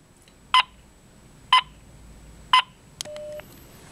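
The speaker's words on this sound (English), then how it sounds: "I'll do a quick test call, and I'll put it on speaker." Three evenly spaced DTMF dialing tones on a speakerphone for a test call on a BlackBerry, sharp and clear about a second apart, followed by a short connecting beep and tone.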